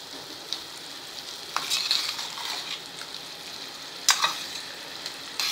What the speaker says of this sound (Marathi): त्याचा कोथिंबिरीचा रंग पण यात छान उतरेल आणि हिरवी मिरची लसूण पण छान परतलं जाईल.